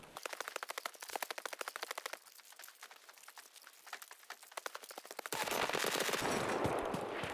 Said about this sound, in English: Now, you could see we got shot there,